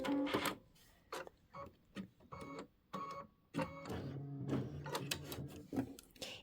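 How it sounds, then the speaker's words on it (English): An embroidery machine sews a satin stitch on a quilt block, running in short stop-start mechanical bursts of whirring and clatter, close and moderately loud with no talking. "Then we're going to trim close to the stitch, and we're going to do the satin stitch."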